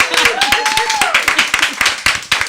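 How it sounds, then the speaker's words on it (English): Audience applause at a live game show event, steady dense clapping with sharp individual claps, while a voice speaks and a tone sweeps over it. "Give them all a round of applause."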